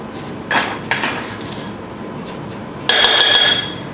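A spoon clinks and scrapes in a bowl while quickly mixing sugar with cornstarch, a few short metallic taps followed by a longer ringing scrape near the end.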